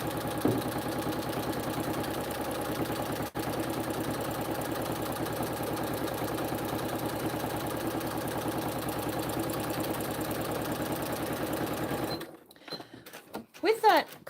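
Sewing machine stitching a zippered pouch of clear vinyl with mesh, a fast steady mechanical run that is loud and continuous for about twelve seconds, then stops abruptly with some handling clatter.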